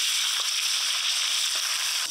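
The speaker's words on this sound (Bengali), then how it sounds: "তেলও গরম হয়ে গেছে, পটল দিয়ে দিলাম।" Pointed gourd (potol) frying in hot mustard oil gives a steady, close sizzle with soft crackles throughout a short stretch.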